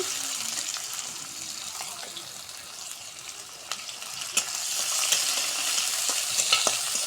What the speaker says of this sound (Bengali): তেলানিটা আমরা সুন্দর করে ভেজে নিব